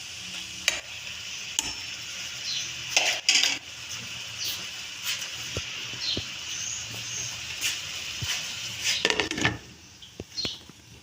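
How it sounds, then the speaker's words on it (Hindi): A spoon stirring spices into tori sabzi in a pot, with soft scraping strokes and occasional light metal clinks over a quiet sizzle, close up and without speech. "हमने इसमें चमची से मिक्स करना है सारे मसाले को।"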